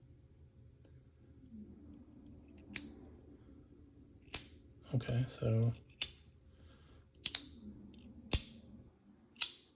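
Several sharp metallic clicks from a titanium bolt-action pen's mechanism, close and crisp, spaced irregularly, with a brief rattling passage and a few quiet spoken words.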